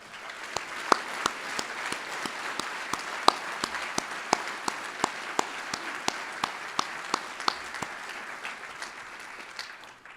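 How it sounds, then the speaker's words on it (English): A graduation commissioning audience applauds award-winning law graduates with a steady, moderately loud wash of clapping, sharp individual claps standing out throughout, no voices over it. "let's just give one more round of applause for all the graduates that won an award"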